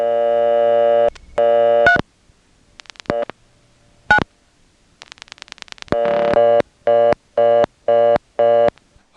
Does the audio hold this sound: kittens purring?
no